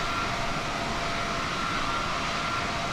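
Steady, broadband engine roar from an Embraer E195-E2 airliner in Microsoft Flight Simulator 2020, a constant cabin-level drone with no breaks.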